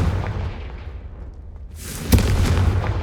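A Confringo fire spell from Hogwarts Legacy lands as a sudden booming blast after a quieter stretch, followed by a rumbling burst that carries to the end of the clip.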